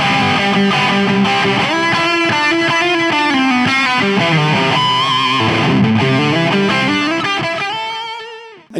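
Electric guitar plays through a Marshall JCM800 pedal without a Tube Screamer in front, giving a loud, distorted, continuous rock riff with sustained chords and notes that ring out and fade at the end.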